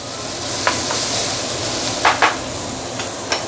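Spices such as cinnamon stick, star anise, clove and bay leaf fry in oil in a wok or pan for Teochew braised duck, giving a continuous hissing sizzle punctuated by several sharp metallic scrapes and clinks of stirring.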